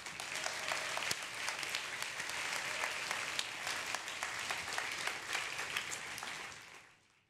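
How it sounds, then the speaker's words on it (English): An audience at a Women in Technology award event gives a sustained round of applause, dense and even, fading out at the end. "let's give them a round of applause"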